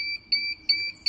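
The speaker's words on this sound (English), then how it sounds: "If the table or the moving gantry touch the sensor, it gives alarm" A fastwire machine's sensor alarm beeps when the table or moving gantry touches the sensor: four sharp, evenly spaced two-tone electronic beeps, loud and close, with nothing else behind them.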